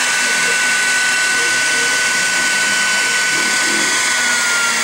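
High-pitched whine of a Techno CNC router spindle running at 16,000 RPM as it cuts into quarter-inch wood, loud and unbroken, with a steady tone and a grinding cutting noise underneath.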